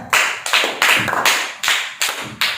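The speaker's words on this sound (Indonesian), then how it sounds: "tepuk tangan untuk Mas Dava dan Mas Novem." A few people clap briskly in short bursts, about seven sharp rounds of applause close by with no voices.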